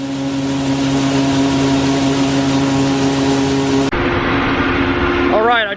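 A grain truck engine idles with a steady, droning hum at a corn and bean harvest at night, loud and constant, then shifts to a rougher tone as a voice starts speaking near the end.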